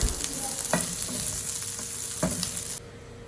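Chicken fries in olive oil in a pan with a steady, close sizzle, broken by a few sharp stirring scrapes, before the sound cuts out abruptly near the end.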